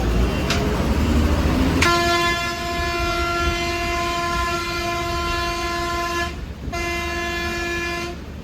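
Air horn of a fast intercity bus on the Cuddalore to Pondicherry road, blaring in a long, loud, steady blast, briefly cut off and then resumed, over constant engine and road rumble.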